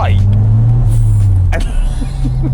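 A replica fake Ferrari drives on the road, its engine droning steadily with a low hum and road rumble and a faint whine, while people talk over it inside the car.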